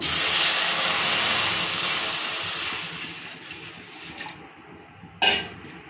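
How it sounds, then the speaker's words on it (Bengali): Water poured into a kadai (wok) while preparing a green banana dish, a loud rushing, hissing stream that tapers off after a few seconds, followed by a brief clatter. "প্রথমে কড়াতে জল দিয়ে দেবো"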